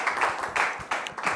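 Studio audience applause welcoming a guest onto a French talk show, clapping rising and falling in several short bursts over a busy room.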